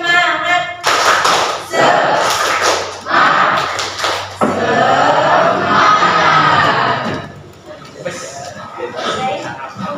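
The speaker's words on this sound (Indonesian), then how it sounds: "Nanti kalau ibu bilang tepuk semangat, semangat gitu ya" Classroom students doing a rhythmic group clap with shouted chants, bursts of synchronized clapping and voices alternating with a teacher speaking.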